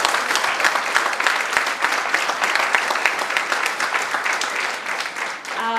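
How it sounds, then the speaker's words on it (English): At a legal awareness workshop on the Consumer Protection Act, the seated audience gives a hearty round of applause, a full even spread of clapping that runs steadily and eases slightly near the end. "So I would like everybody to give a big round of applause to sir again."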